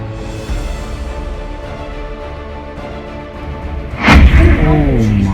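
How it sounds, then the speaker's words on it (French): A fuel tank blowing up at a construction site, a sudden loud boom after about four seconds over steady background sound with talk beneath, then a rumbling tail. "L'explosion de la cuve était si violente qu'elle a non seulement effacé le chantier"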